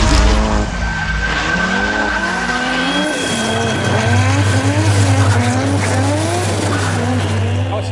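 Cars speed down a narrow hinterland road with engines revving hard and tires squealing through skids, loud and sustained throughout, rising and falling with gear changes.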